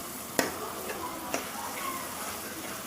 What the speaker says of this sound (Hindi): ये हमारा कीमा भुन रहा है।